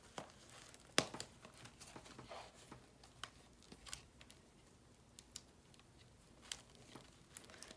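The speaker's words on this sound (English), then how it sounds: "the first thing I'm going to do is unstuff my cash" Paper cash envelopes being emptied by hand, with soft close crinkling, rustling and small paper clicks, quiet throughout with a few sharper snaps.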